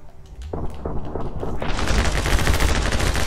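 Machine gun fire in the video game My Friend Pedro: rapid, dense bursts of gunfire that grow louder and fuller, ending in a sustained, close volley.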